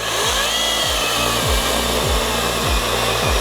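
A Grosser 120 HS cordless battery chainsaw runs close and loud with a steady high whine, and its pitch dips and recovers in a regular pulsing rhythm as the chain spins along the full bar.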